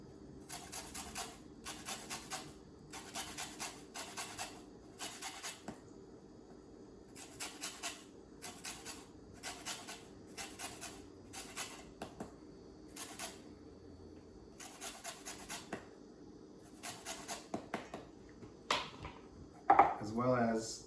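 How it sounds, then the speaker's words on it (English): A lime is zested on a grater in a series of short, quick rasping strokes in separate bursts, fairly quiet and close, with soft handling noises between them. "back with that same grater, I'm gonna add also the zest of a lime."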